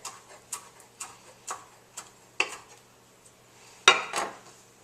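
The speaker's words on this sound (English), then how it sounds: "a little bit of parsley right on top. And chop it up real quick." A knife chops parsley on a cutting board in quick sharp taps, about a dozen strokes at an uneven pace, close and clear against a quiet background.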